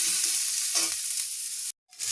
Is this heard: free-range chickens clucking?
no